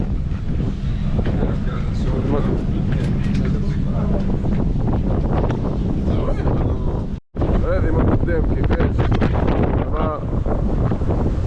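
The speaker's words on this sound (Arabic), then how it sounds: "برشا ريح" Strong wind buffets the microphone in a loud, constant roar on a boat at sea off Sardinia, with engine and water noise beneath as people talk over it.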